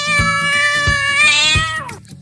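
A cat meows loudly and close up in one sustained, wavering call that falls away at the end, with a steady low rhythmic beat running underneath.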